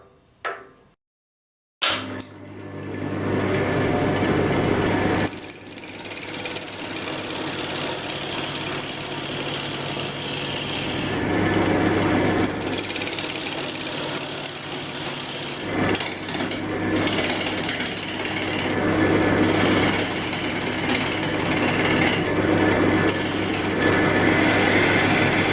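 A sycamore crotch box spins on a woodturning lathe as the tool cuts, a steady close motor hum with continuous scraping and chattering wood noise, briefly interrupted near the start.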